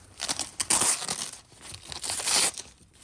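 A knife slices open a bubble wrap pouch package in two short bursts of crinkly tearing, close and fairly loud, with brief pauses between the cuts.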